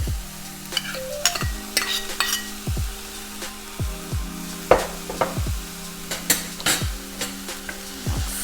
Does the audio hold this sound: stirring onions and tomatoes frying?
yes